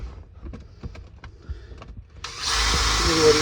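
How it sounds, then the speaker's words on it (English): Power drill boring drainage holes into a pond pressure filter housing, starting with light handling knocks, then a loud, steady whirring drill run that carries on to the end. "Just drill a couple of drainage holes in here."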